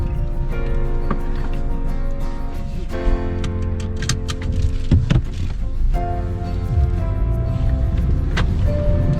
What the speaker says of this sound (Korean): 제가 한번 시운전도 한번 해보고 차량 상태가 어떤지를 확인해 보도록 할게요